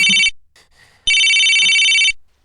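A mobile phone ringtone rings loudly during a job interview, sounding in two bright, tonal bursts with a short pause between them and no talk.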